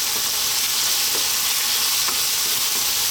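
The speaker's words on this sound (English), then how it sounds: "I'm just going to break these tomatoes with my spoon." A spoon breaks tomatoes down in a saucepan of spicy arrabbiata sauce with eggplant. A loud, continuous sizzle runs under faint scraping and squishing from the spoon.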